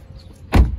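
A single solid car door thump in the rain, a short heavy slam after a moment of quiet background hiss, fading quickly.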